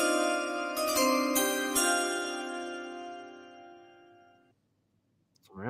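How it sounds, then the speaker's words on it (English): A bright chime jingle plays before an NFL draft pick announcement at a live draft watch party, ringing tones layered over one another and then decaying to near silence before a voice briefly starts. "So I will play the chimes real quick, and then we'll hear from the commission."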